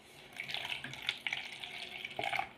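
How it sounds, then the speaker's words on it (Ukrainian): Water pouring into a bowl, a brief steady stream that starts, pauses slightly and trickles again, close by and fairly quiet. "Спочатку ми наливаємо водичку."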